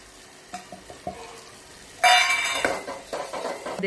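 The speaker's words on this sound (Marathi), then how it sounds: "त्यात आपण आता कांदा लसूण मसाला आणि मटण मसाला टाकून परतून घेऊया" Onion-garlic masala and mutton masala being sautéed in oil in a pan for a homemade mutton curry: a few light spoon clinks against the pan, then a sudden loud burst of sizzling that fades gradually under continued stirring.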